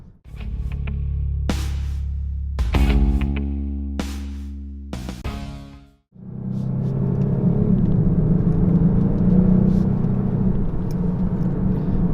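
2018 Kia Stinger GT2 car driving, with a steady tonal engine hum and some clicks inside the cabin, a brief dip, then a louder continuous road and engine rumble.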